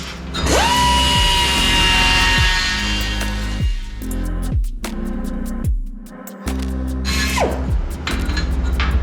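Rotary carbide bit grinding rough-cut aluminum ahead of TIG welding, a loud high-pitched whirring drill that spins up and winds down several times in short bursts, with brief pauses between runs.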